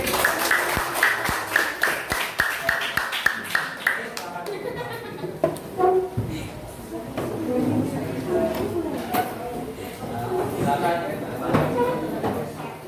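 A class of students claps hands together in a classroom, starting as a burst of sharp claps that trails off into mixed chatter and voices.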